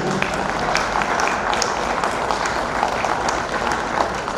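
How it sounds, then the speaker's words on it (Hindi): Audience at an Indian kavi sammelan poetry gathering claps steadily throughout, a dense, even wash of hands with no pauses. "आप लोगों के लिए तालियां बजानी चाहिए"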